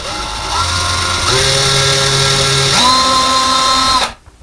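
A power drill bores a hole into drywall while installing a closet rod, checking for a stud behind the wall. The motor whines steadily and close, stepping up in pitch twice over about four seconds before cutting off abruptly.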